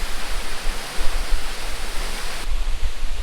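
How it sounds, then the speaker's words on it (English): A powerful waterfall at Gitgit and Campuhan Twin Waterfalls roars steadily and loudly nearby, a dense unbroken rush of falling water with deep rumble and no voices. "I've never been in a waterfall like that ever before"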